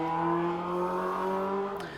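A loud motorcycle passes nearby, its engine producing a steady droning whine that holds for about two seconds before tailing off, heard alone without talk.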